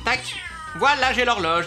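A video game cat in Ice Scream Chapter 2 meows loudly and insistently, two drawn-out cries with a whiny rising pitch, while a person talks over it.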